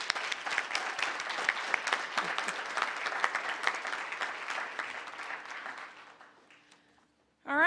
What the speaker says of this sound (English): How about another round of applause for this great man?